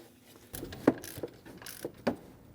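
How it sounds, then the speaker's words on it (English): A ratchet snugs down the bolt on a serpentine belt idler pulley of a 2001-2006 Chevrolet Silverado 2500 HD, giving a few sharp metallic clicks and short ratcheting bursts spaced over a couple of seconds. "Snug the bolt down."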